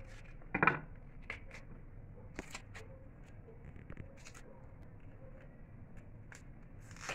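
A kitchen knife cuts an onion on a cutting board while tostadas of pork snout are prepared, giving a few sparse, close clicks and knocks, one sharper chop early on, over quiet room background.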